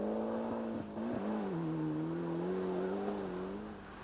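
A Ford Escort Cosworth rally car driving a stage at a 1993 rally, engine note droning and shifting in pitch as it accelerates, easing briefly then pulling steadily, heard continuously and fairly loud without talk.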